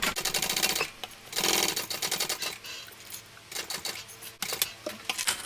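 Sewing machine runs basting stitches on a shoulder bag, close rapid needle chatter in several bursts with short pauses between them.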